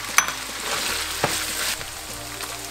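Bay leaves and star anise dropped into hot oil in a pan, giving a loud steady sizzle with a few sharp clinks of a utensil against the pan, for a Filipino menudo.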